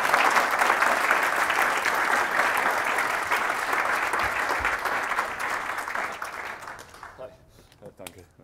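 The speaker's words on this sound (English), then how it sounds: "time for clapping." Sustained audience applause closing a talk at the TROOPERS14 security conference, dense and steady for several seconds before tapering off and fading near the end.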